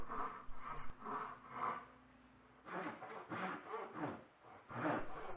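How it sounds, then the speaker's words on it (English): A handsaw cuts down the middle of the rounded lower part of a wooden mirror crown, with close, rhythmic rasping strokes in short bursts separated by brief pauses. "The rounded lower portion of the crown is sawn down the middle to a depth of exactly 7/8 of an inch."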